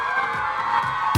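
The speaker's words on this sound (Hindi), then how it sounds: "वही ग्रुप तालियां बजा रहे जो इनके साथ आया है।" A studio audience group on the Sindhi game show Hojamalo claps and cheers loudly in a brief, dense burst of crowd noise, swelling near the end.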